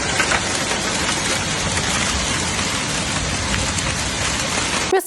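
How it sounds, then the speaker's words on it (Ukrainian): Heavy rain with hail pounding down in the Kyiv region during a storm, a loud, dense, continuous patter filling the whole stretch with no voices. "Київщину вже накрив великий град в регіоні"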